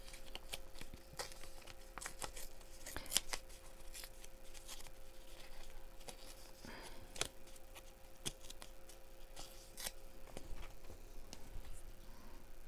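Paper torn by hand for a craft project, heard as a series of short, dry ripping bursts scattered through the clip at close range, fairly quiet, with light handling noises in between and no talk.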